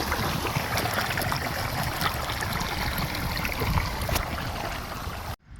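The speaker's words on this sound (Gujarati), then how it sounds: "જો મિત્રો આ મોટરમાંથી પાણી આવે છે" Water pours from a pump motor into a fenugreek field as a continuous rushing, gurgling flow. It is close and steady and then cuts off abruptly at the end.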